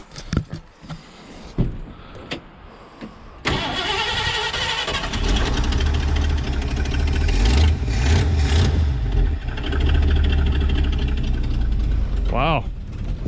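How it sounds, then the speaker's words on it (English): A 1968 Ford F100 engine cranks after its carburetor is adjusted, catches and settles into a loud, steady idle with an uneven low rumble. A brief whining tone rises near the end. "adjust on the carburetor a little bit while it's cool, and hopefully get her running"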